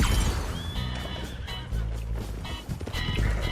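Horse whinny from the online western game Red Dead Online, a loud neigh amid a dense, busy game mix with crashing effects and some voice underneath.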